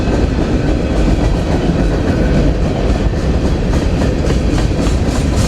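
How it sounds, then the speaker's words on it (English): A train rolls past close by as it heads south, giving a loud, continuous rumble with a steady clickety-clack of wheels over rail joints throughout. "As we slowly follow the train as it heads south."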